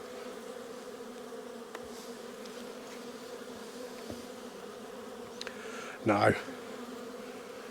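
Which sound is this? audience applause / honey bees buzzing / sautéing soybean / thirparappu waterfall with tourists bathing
honey bees buzzing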